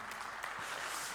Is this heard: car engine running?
no